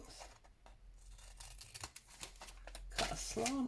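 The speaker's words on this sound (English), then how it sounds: "cut a slant on each side" Paper being cut with scissors while making paper Advent bags, a few short snipping and rustling sounds close up, with crinkling of the paper toward the end.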